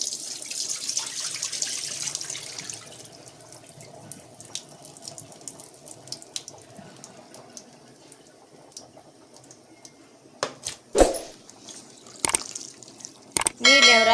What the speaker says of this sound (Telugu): ఈ విధంగా నీళ్ళల్లో ఉన్నప్పుడే వంచేసి ఎసుకులో వేసేసుకోవాలి